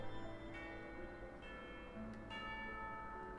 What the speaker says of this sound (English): That's the sound of the bell.